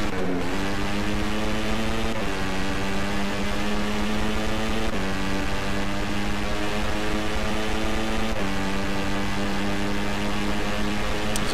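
Simulated motorcycle engine from the racing game MotoGP 14, a loud, constant high-revving drone with layered harmonic whine that shifts pitch every few seconds as gears change, with no talking.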